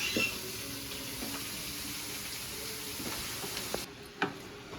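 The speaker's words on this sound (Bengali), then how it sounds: "পেঁয়াজ লঙ্কা ফোড়ন হয়ে গেছে, এবার শাকটা দিয়ে দিচ্ছি।" Greens (note shak) hit hot oil already sizzling with onion and chilli, a dense continuous frying hiss with faint stirring scrapes and a clink near the end.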